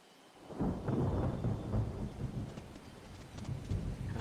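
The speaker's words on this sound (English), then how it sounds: "Kind of dreary, got some rain." Dreary rain in a video game city level, a steady hiss of falling rain with a low rolling rumble of thunder building after a brief quiet start and lingering throughout.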